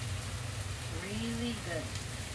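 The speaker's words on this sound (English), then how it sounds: "Oh, that fish is cooking." Fish sizzling on a grill, with a steady crackling hiss of the kind rain makes, heard close and continuous while a voice talks faintly over it.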